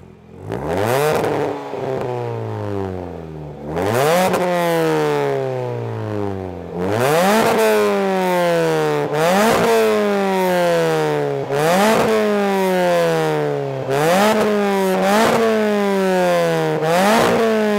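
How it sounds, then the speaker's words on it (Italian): Repeated revving bursts from the exhaust of a Mini Cooper S R53, each rising sharply then falling back, about six rev cycles in a steady rhythm, loud and close. "se vuoi sentire lo scarico suona così"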